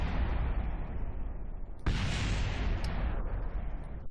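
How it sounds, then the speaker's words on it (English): Loose rocket parts keep exploding after a structural failure in the video game Kerbal Space Program 2, giving a rumbling roar of blasts with a sudden sharp burst midway and a fading, crackling tail. "There's bits that are still exploding."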